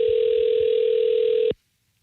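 A steady telephone tone sounds on an outgoing call as the line rings out, a single continuous electronic tone held loud and close for about a second and a half before cutting off abruptly into silence.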